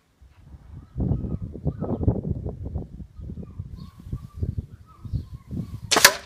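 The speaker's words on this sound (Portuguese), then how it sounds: "Primeiro disparo." A CRF air rifle fires a Shilba pellet at a 32-metre target. Low, uneven rumbling and shuffling noises come first, then one sharp, bright crack near the end.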